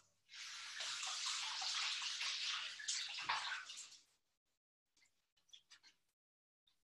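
Salad leaves being washed under a running kitchen tap: a steady, close rush of water for about four seconds, then it stops, followed by a few soft drips and small handling sounds.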